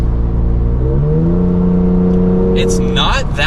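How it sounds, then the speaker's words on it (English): Toyota Tacoma fitted with an AWE true dual exhaust idles with a deep, steady rumble, then the engine note rises briefly in a rev and settles back; a voice cuts in near the end. "AWE true dual exhaust system for the Tacoma"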